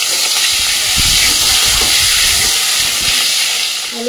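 Cut potato pieces frying in hot oil with nigella seeds in a Bengali home kitchen, producing a steady, loud hiss with faint bubbling underneath throughout.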